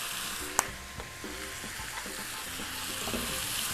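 A Cajun spice mixture stirred in a hot pan for jambalaya pasta: a steady frying sizzle with one sharp clack and a few quieter scrapes from the spoon, nearby and alone.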